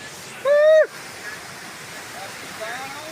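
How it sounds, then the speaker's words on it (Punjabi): Fast floodwater from a breached embankment near Dinanagar, Punjab, rushes past in a steady, moderate wash, with a brief high, voice-like call cutting through near the start. "ਦੇਖੋ ਜੀ ਪਾਣੀ ਦੀ ਸਪੀਡ ਚੈੱਕ ਕਰੋ"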